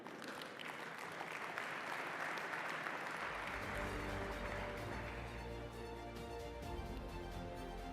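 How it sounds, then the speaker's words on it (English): Audience applause fills a plenary session hall at the FMF25 forum at KAICC, a dense, steady roar of many hands. Sustained tonal music swells beneath it partway through. "Round of applause, ladies and gentlemen."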